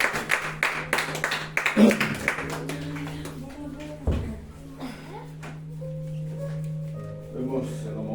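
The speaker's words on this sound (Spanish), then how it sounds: "Vamos a darle un fuerte aplauso a esta Biblia" A church congregation breaks into dense clapping that fades after a few seconds, followed by a sustained organ or keyboard tone beneath quieter sounds.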